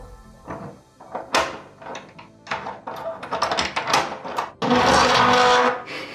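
A NEMA 17 stepper motor driving an NFC door lock mechanism, loud buzzing bursts with clunks and rattles, stopping and starting, ending in a sustained harsh whir.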